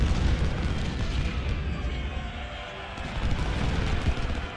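Artillery opens fire in the Ultimate General: Civil War game, a dense wash of rumbling booms and blasts rolling continuously without pause, heavy in the low end and fairly loud.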